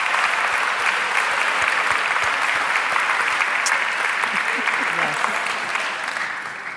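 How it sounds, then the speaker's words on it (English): Sustained applause from a seated audience at a lecture hall talk, loud and dense throughout, clapping steadily for several seconds before tapering slightly at the end. "So let's just give the men another round of applause,"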